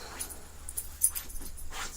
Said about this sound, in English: you hear my dog trying to get comfortable